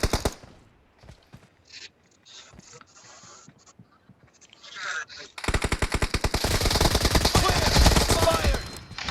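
Automatic fire from a suppressed M762 rifle in the PUBG Mobile team deathmatch mode, a long dense rapid burst in the second half after scattered quieter clicks and movement sounds, loud and close.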